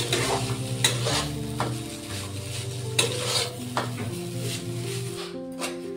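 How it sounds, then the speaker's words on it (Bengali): Maggi noodles with chopped coriander sizzle in a pan while a utensil stirs and scrapes in repeated strokes, close and continuous, with faint tonal background hum. "এটা ভাজা ভাজা হয়ে গেছে, তো এখন একটু দেবো হচ্ছে ধনিয়া কুচি দিয়ে দিই।"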